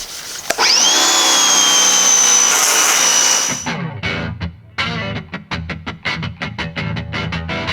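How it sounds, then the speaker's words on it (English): A loud whining power tool spins up and runs steadily, then gives way to rapid, uneven scraping and buzzing strokes of sanding on a Corvette during detailing prep. "still here sanding away, probably hear him"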